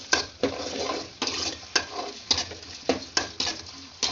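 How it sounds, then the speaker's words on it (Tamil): Brinjal pieces being stirred in a pan with a spatula, giving repeated scraping strokes roughly every half second over a steady background sizzle, close and fairly loud with no talking. "கத்திரிக்காய் போட்டதுக்கு அப்புறம் நல்லா மிக்ஸ் பண்ணுங்க"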